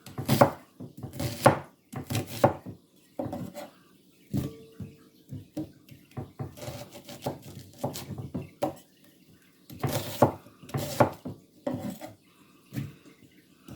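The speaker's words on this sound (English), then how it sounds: "Cutting up our onion guys, just cut it up in big chunk, using big onions." Big onions being chopped into chunks with a knife on a board, irregular bursts of solid thuds in quick clusters separated by short pauses, close by and alone.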